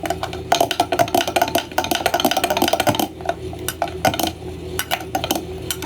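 A utensil stirs freshly ground black pepper into a cooling homemade juice, clinking rapidly and repeatedly against the glass or vessel. The taps are loud and close, in quick rhythmic bursts with a brief pause midway.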